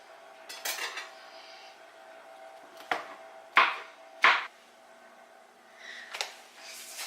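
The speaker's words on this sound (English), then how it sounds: "And then I do have my mushrooms, so I'm just going to cut these down real quick." A knife chops mushrooms on a cutting board in a home kitchen, giving a few sharp, separate knocks spaced about a second apart, with faint clatter from kitchen items in between.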